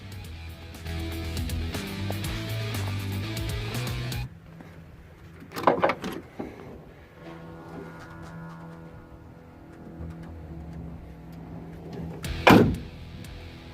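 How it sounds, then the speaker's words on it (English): A 1967 Chevrolet Impala four-door sport hardtop's door swings shut with a sharp solid thunk, preceded by rattling handle and latch clicks and followed by a second distinct slam, heard close in a quiet garage after a muddled busy stretch. "Door shuts pretty good."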